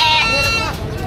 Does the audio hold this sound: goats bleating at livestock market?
yes